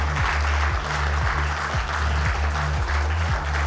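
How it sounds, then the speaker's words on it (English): A large audience claps continuously at a corporate panel event on innovation and partnership, a dense sustained wash of applause under a steady musical beat playing over the hall's speakers. "Keep clapping, guys, come on."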